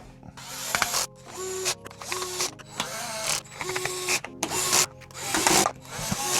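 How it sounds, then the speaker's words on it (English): Screws being driven back into the plastic rear casing of a DJ Groovin' Go toy, a run of close, loud ratcheting, clicking turns in repeated bursts with short pauses between, no talking. "Turn the toy over and replace all the screws on the back."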